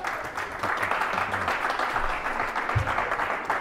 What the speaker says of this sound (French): applaudissements, Patrick Roux.